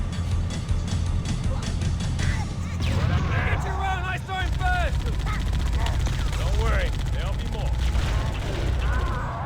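Cannon fire and rapid gunshots ring out in the video game Halo Combat Evolved, with repeated sharp bursts and mechanical clatter throughout, while someone talks over the action.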